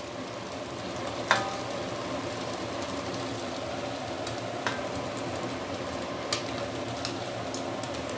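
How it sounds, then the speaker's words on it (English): Fish maw soup with submerged ingredients simmering in a pot: a steady, soft bubbling hiss with occasional small pops and ticks. "And then I'm going to let this simmer for at least 15 minutes."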